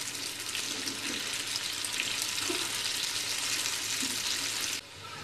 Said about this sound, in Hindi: इनको हम फ्राई कर लेंगे सुनहरा होने तक।